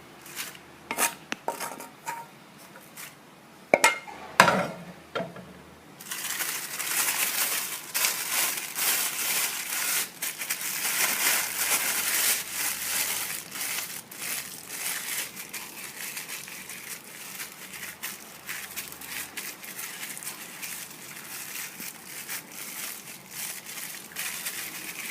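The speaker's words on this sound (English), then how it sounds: "I'll transfer the cabbage here and just rub it nicely." Cabbage fufu being rubbed and mashed by hand, soft crinkling and squishing bursts after a few quiet clicks, close up and continuing irregularly with no voices.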